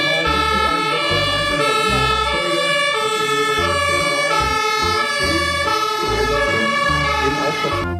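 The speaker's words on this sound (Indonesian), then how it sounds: "lihat ini teman-teman, ada truk pemadam" A toy fire truck's siren plays a steady looping electronic wail with a pulsing low beat underneath, loud and continuous throughout, with no talking over it.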